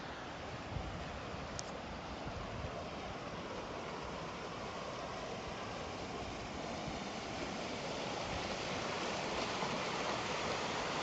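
Creek water runs through a ravine at Lytle Creek, California, a steady broadband rush that holds evenly for about eleven seconds with no one speaking.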